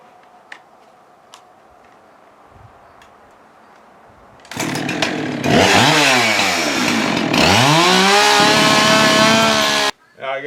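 Chainsaw cutting a chunk off a spruce log, its chain dull after hitting a rock: quiet idle and a few clicks, then a loud revving whine biting into wood for about five seconds before cutting off abruptly.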